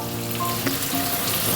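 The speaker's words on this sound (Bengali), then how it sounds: "এবার দিয়ে দেবো এই যে আদা কুচি, আর এই কতগুলো রসুন।" Chopped onion, ginger and garlic sizzle steadily in hot oil in a pan, a close, continuous frying hiss with no talk.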